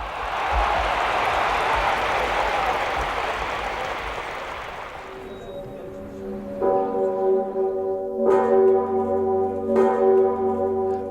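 The giant nine-ton bell of Wawel Cathedral in Kraków tolls with deep, booming strikes during a spontaneous celebration. Loud crowd noise comes first and then fades as the resonant bell rings out.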